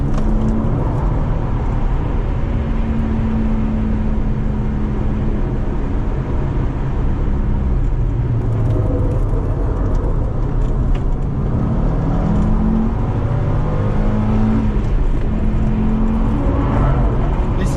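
Race car lapping CTMP Mosport with tires squealing steadily through a corner, carried over a loud, continuous engine drone that holds for the whole stretch.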